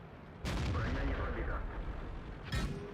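A tank gun fires in World of Tanks, two loud booming shots with rumbling tails, the first sustained and the second brief near the end, over game ambience.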